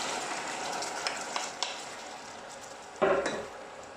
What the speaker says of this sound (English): When the garlic starts to fry, don't let it burn, and just immediately throw the tomatoes on the oil.